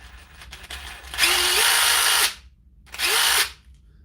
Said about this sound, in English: This is a very common Dewalt Impact Driver. It's the 3-speed. It's the DCF887.